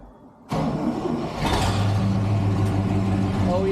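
An old Chevrolet C10 pickup with original patina paint, cold and with its choke unhooked, cranks and catches, then settles into a rough, loud idle close to the microphone, with no talk over it.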